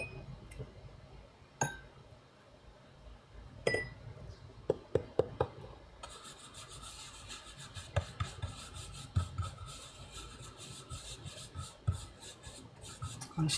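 A surface being rubbed by hand to create an effect, heard as close, quiet rasping strokes mixed with occasional light clinks, growing busier and more continuous partway through.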